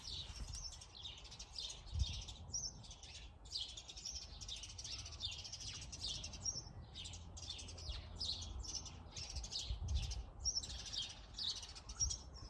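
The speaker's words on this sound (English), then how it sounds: "I love the sound of magpies" Magpies call outdoors among trees, their repeated warbling chirps coming faint and somewhat distant in a continuous stream over low background rumble.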